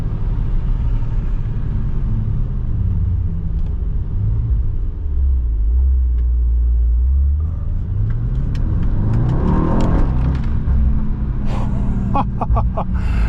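A Mercedes Kugel S600 with over 600 hp drives along city streets in Beverly Hills, its deep engine rumble heard from inside as it slows, then swells again with rising revs and a few clicks near the end.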